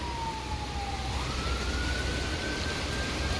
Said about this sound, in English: The sirens are very close.